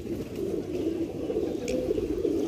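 Kaldume Fullsar pigeons at a pigeon sale in Lucknow, giving low, steady cooing that runs continuously through the moment with a faint background hiss.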